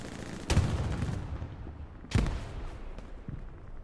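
Two heavy booms from a Panzer tank's gun ring out in the World War II shooter game Hell Let Loose, each a sharp blast with a rolling tail, moderately loud and separated by about a second and a half, with no talk.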